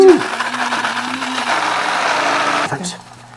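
A Hamilton Beach cordless blender whirs loudly and steadily as it blends berries with juice, then winds down and stops near the end.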